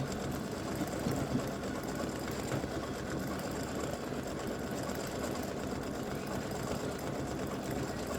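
An embroidery machine stitches the fill of an appliqué bow on an elf legs design after the placement and tack-down stitches, giving a steady, continuous rapid mechanical whir and clatter throughout, close and even in level.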